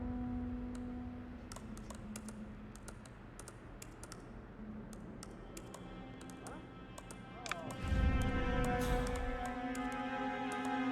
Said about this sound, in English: that's meant to be his typing noise